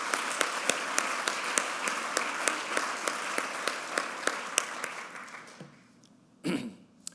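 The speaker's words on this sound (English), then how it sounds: "So I want to give an applause for your leadership." Steady applause from an audience at an outdoor hospital groundbreaking ceremony, a crowd clapping evenly with sharp rhythmic claps standing out, then tapering off into a brief rustle.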